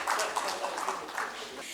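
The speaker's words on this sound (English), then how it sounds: "a big round of applause for our dignitaries on the dais" An audience at a national management summit applauds dignitaries on the dais, a steady round of clapping from a nearby crowd throughout.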